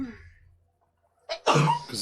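A sudden, sharp burst like a sneeze after a quiet stretch, followed by a voice speaking nearby.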